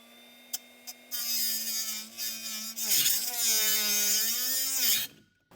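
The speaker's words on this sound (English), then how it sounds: "It's supposed to be a sheet metal cutter, but it's a nice small grinder with a thin wheel on it" A small angle grinder fitted with a thin cut-off wheel, really a sheet metal cutter, bites into a seized suspension bolt on a Cushman Trackster, whining loudly and steadily with brief dips as the load shifts before spinning down.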